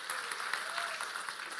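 Audience applause at the Honor X9b phone launch event, a steady, moderately distant patter of many hands clapping in a large hall with a few sharper individual claps standing out.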